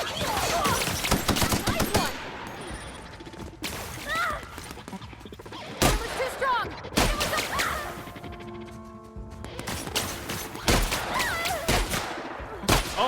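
Gunfire in the sci-fi shooter The Outer Worlds, with loud bursts of shots and impacts in several clusters, some rapid and repeated, over game music and ambience, and a voice briefly speaking between them.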